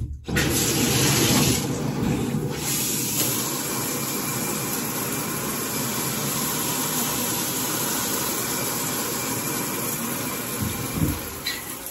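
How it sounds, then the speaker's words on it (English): A shower runs continuously indoors, a loud steady hiss of spraying water that holds unchanged from start to finish with no talking. "I'm gonna turn the shower on because I need a little bit more water."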